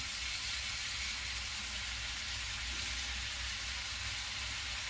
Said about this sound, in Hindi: अदरक लहसुन का पेस्ट भून चुका है। इसमें मैं टमाटर डालूंगी और इसके साथ नमक।